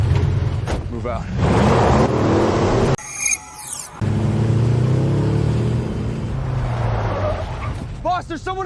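A car drives and then brakes to a stop amid tense shouting, with a dog barking and yipping nearby, engine rumble and a short skid heard under the loud voices.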